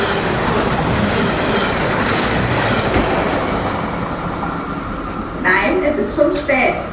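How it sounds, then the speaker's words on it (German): A toy model railway train runs steadily with a continuous rolling rumble and clatter. Voices come in briefly near the end. "Jonathan, mach die Eisenbahn aus"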